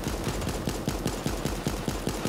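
Rapid gunshots in the video game Super Animal Royale, a steady rhythmic string of sharp, closely spaced shots at moderate loudness with no talk.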